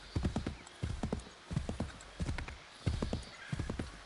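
Horses' hooves clip-clop in Assassin's Creed III Remastered, with a neigh among the steady, near, moderately loud gallop, the hoofbeats grouped in repeated rhythmic bursts and no talk over them.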